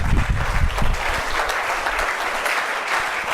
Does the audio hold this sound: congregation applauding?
yes